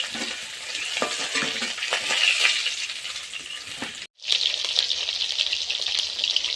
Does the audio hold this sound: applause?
no